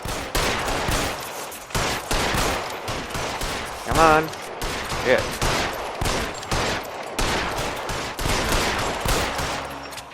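Gunfire in L.A. Noire rings out in dense bursts of repeated shots under a man's excited in-game talk, with vehicle and city noise behind.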